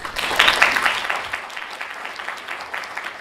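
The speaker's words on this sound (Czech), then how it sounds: "Zatleskat." Audience applause at an indoor public talk, a burst of many hands clapping that peaks early and then settles into a steadier, thinning patter.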